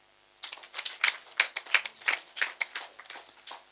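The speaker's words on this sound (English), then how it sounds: "I want us to clap for ourselves." A crowd claps together in a series of sharp, closely spaced hand strikes, near and fairly loud, rising and fading over a few seconds with no talking.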